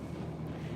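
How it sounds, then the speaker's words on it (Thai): Strong wind buffets a microphone outdoors on a winter morning, a low steady rumble with no voices. "ทุกคนต้องขออภัยใน เสียงลมด้วยเนาะ"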